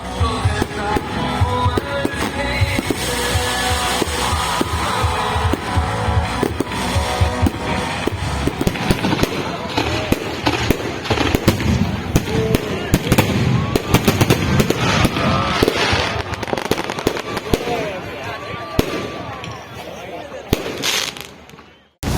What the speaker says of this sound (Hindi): गौहर बिल्डर के इस प्रोग्राम में आतिशबाजी का जबरदस्त मुजाहरा किया गया।